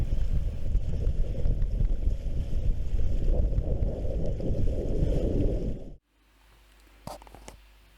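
Sailboat under sail with the engine switched off, heading across St Ives Bay near Godrevy Island: steady loud wind and water rush on the microphone that cuts out suddenly, leaving quiet hiss with a couple of brief knocks.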